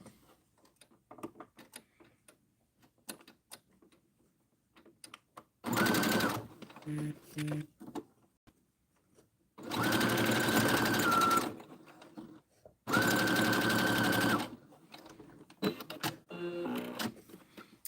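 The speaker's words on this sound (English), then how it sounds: "And sew it down." A sewing machine stitches fabric for a boxy popcorn zipper pouch in three loud, steady whirring runs of a few seconds each, separated by quieter pauses with handling clicks and a voice talking.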